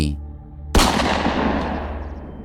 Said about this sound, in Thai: เสียงปืนดังสนั่นขึ้นมา ภายใต้ความเงียบสงัดของผืนป่า